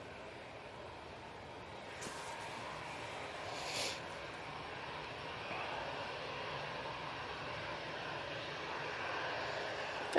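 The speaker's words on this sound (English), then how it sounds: "that Air Canada is just passing over Wigan" An Air Canada airliner passes overhead near Manchester Airport, its engine noise a steady, distant broadband roar that swells slightly as it goes by, with no talk.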